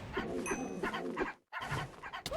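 A pug character in a video game uses its Sonic Bark ability, giving gruff, processed barking and yelping bursts in a dense game mix, with a short silent gap midway before more barks.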